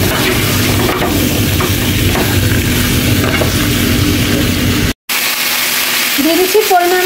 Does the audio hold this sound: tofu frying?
yes